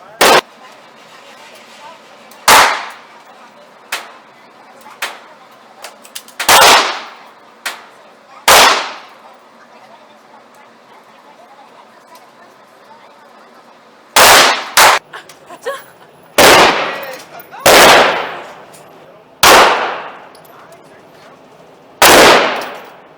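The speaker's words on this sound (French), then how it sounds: "Elle a tiré trop bien, elle a tiré dedans quoi." Pistol gunshots at a shooting range in Dallas, about a dozen loud, sharp cracks fired singly and in quick pairs at irregular intervals, close by, with people talking between shots.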